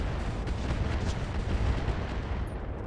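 Mech weapons in the RogueTech video game fire at a Nidhogg mech, a continuous heavy roar of rapid booming shots and explosions that stays loud and dense throughout with no talking.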